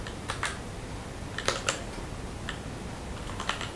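Clicks of a computer keyboard on a Windows 10 PC as text is entered, a few quiet, scattered keystrokes in short bursts with no talking.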